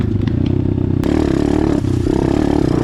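An Apollo DBX15 Chinese pit bike running close by, a buzzing small-engine drone with a rattling clatter and a sharp knock partway, the pitch shifting slightly as it rides; no talk.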